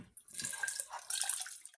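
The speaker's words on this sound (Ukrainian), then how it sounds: "Так, виноград постояв, і будемо зливати водичку." Water from jarred grapes drains out in a steady, close trickling pour with brief splashy surges, no speech over it.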